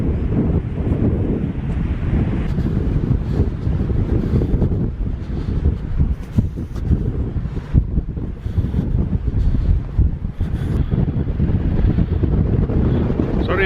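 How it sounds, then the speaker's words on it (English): Strong gusty wind buffets the microphone on a coastal walk in Hunstanton, Norfolk, a loud, continuous rumbling roar with fluctuating bursts throughout and no clear talk. "Sorry about the wind."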